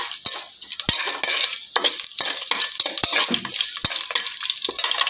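Whole spices including cinnamon sticks, marathi moggu and fennel seeds sizzle and fry in a pan for pulao, with steady crackling hiss broken by sharp clinks and scrapes of a spoon stirring against the metal.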